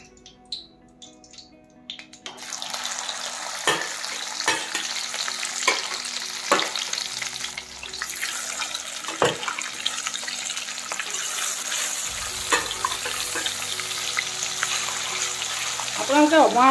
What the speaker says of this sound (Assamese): এইখিনি তেলতে আকৌ মই মাছখিনি ফ্ৰাই কৰিম।